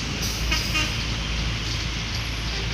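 An ANS bus from West Sumatra rolls along Soekarno Hatta road in Palembang, its loud engine roar mixing with road noise as a short horn blast sounds early on.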